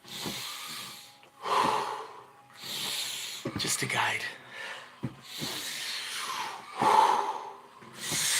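Deep rhythmic breathing during a Wim Hof breathing exercise, with loud forceful inhales and exhales repeating in slow cycles roughly every two seconds, close up, with a guiding voice speaking briefly.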